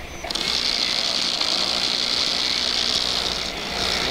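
A Ghostbusters prop neutrino gun gives off a continuous, high-pitched electronic whine over a faint low hum. It holds steady for several seconds.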